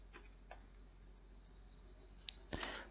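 A few sparse clicks of keyboard keys as a date is typed on a computer, faint and widely spaced, ending in a short cluster of louder taps.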